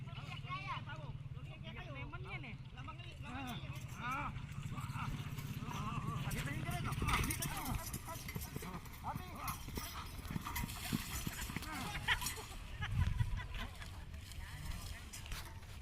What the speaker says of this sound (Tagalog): Tingnan mo yung kalabaw.